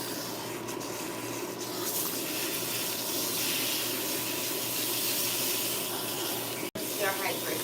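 Cool water from a salon sink sprayer runs over hair during a rinse, a steady close hissing wash with soft rubbing, briefly cut off near the end.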